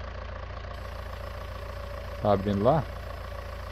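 A tractor engine idles in Farming Simulator 19, a steady low drone throughout, with someone briefly speaking over it near the end.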